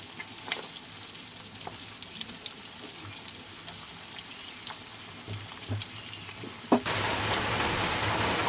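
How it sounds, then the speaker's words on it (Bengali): Fish roe frying with eggplant and onion in a pan, with a steady crackling sizzle throughout that thickens into a louder, fuller hiss for the last couple of seconds. "আমার বেগুন দিয়ে পেঁয়াজ দিয়ে মাছের ডিম ভাজা হচ্ছে"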